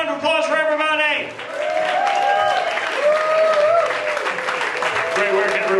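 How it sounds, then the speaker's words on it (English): A theatre audience gives a big, sustained round of applause after an evening of short serial plays, dense clapping filling the whole stretch with cheering and voices mixed in. "Let's have one more big round of applause for everybody."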